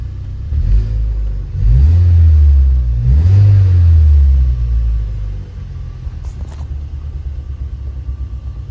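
A turbocharged Ford Fiesta ST engine idling after a new fuel system fit, a deep close rumble that swells in two short revs before settling back to a steady idle.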